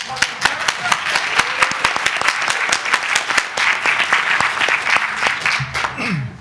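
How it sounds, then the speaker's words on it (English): Audience at a psychology session clapping their hands as loudly as they can, rapid sharp claps ringing out over a thick bed of applause, close and loud, fading at the end as a voice speaks. "Clap your hands as loud as you possibly"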